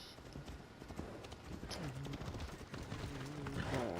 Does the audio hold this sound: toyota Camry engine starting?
no